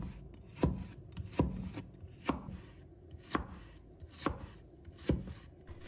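A knife slicing a peeled piece of fresh ginger on a cutting board gives about seven crisp chops, evenly spaced and close by, with no talk.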